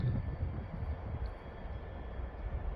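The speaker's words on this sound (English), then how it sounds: "We have now a freight train approaching" A freight train approaching Stowmarket Station in England, a steady low rumble with a faint high whine, moderately distant and continuous.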